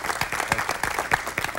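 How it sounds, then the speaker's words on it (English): Audience applause at a televised student forum with Barack Obama in a studio, a short burst of dense clapping from a modest crowd, close and steady. "A round of applause for Mr. Obama."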